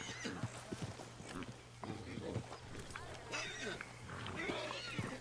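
A horse in the Red Dead Redemption 2 video game neighs and snorts in short bursts, with hoof clopping and rustling nearby, mixed with voices talking over it.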